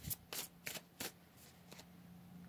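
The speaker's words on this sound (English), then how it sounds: "Let's go ahead and pull some more cards," Tarot cards being shuffled and drawn from the deck close up, a few quick crisp riffling bursts and then softer sliding card sounds, faint and with no one talking.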